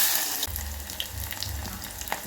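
Bay leaf and green chillies fry in hot oil in a kadai for an egg and spinach curry, giving a steady soft sizzle with faint crackles and small pops throughout.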